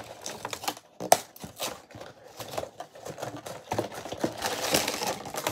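Scissors snip open the plastic bag of a Labubu blind-box toy, a close series of sharp, irregular clicks and crinkles with no talking.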